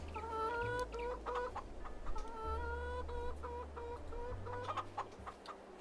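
Chickens cluck steadily in the farming video game No Man's Land, a near, busy run of repeated clucks and short calls over a low, constant background hum.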